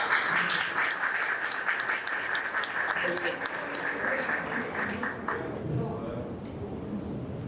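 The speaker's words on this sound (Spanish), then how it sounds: "con el aplauso de todos ustedes" An audience at a panel on Pedro Henríquez Ureña claps together, the applause strong at first and gradually thinning out, with some murmuring underneath.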